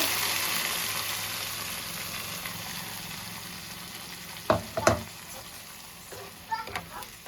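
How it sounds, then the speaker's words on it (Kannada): Ground paste frying in oil in a pan for healthy momos, a steady soft sizzle with a few sharp scraping stirs near the end. "ಇವಾಗ ಇದರಲ್ಲಿರೋ ವಾಟರ್ ಎಲ್ಲ ಹೋಗಿ ಎಣ್ಣೆ ಸಪ್ರೇಟ್ ಆಗೋವರೆಗೂ ಇದನ್ನು ಫ್ರೈ ಮಾಡ್ಕೊಳ್ಳೋದು"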